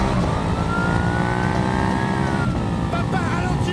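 A car speeds along with a loud, steady engine roar that holds throughout, with rising tonal sounds and faint voices mixed beneath it.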